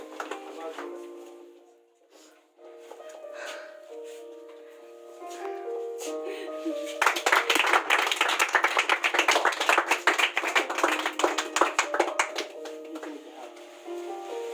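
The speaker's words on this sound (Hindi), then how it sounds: "तालियों में कोई कमी नहीं होनी चाहिए।" Audience clapping at a stage event: music and a voice carry the first half, then a burst of loud, dense hand claps rises from about seven seconds and continues steadily under the music to the end.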